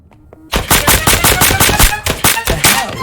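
Rapid bursts of gunfire from the shooter game Deceive Inc., aimed at headshots, start after a short quiet lead-in and hammer on loud and close in a fast, uneven rhythm until the end.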